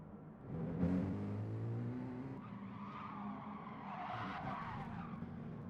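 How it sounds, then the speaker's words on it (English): A Mini Cooper race car at the Nürburgring GP circuit does a handbrake turn, its tires skidding and squealing with a wavering tone over engine noise, heard at moderate distance. "Got somebody doing handbrakes."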